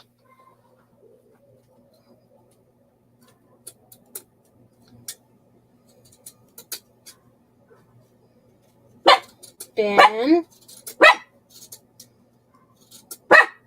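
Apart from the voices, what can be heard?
dog barking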